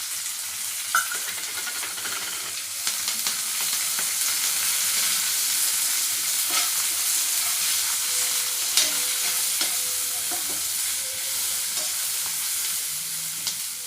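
Frying in a pan with green chillies and turmeric for ridge gourd chutney: a steady, close sizzle with faint stirring scrapes running evenly throughout, no voices.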